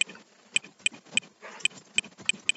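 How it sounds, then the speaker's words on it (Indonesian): Computer keys tapped one at a time while a MySQL insert command is typed: about eight crisp, evenly spaced clicks at close range, alone in a quiet room. "Setelah itu kita ketik insert"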